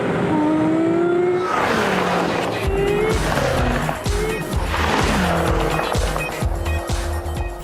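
A Manhart BMW M3 screams at high speed near 290 km/h, its engine whining up and down through shifts with tire noise and roaring passes, loud and close.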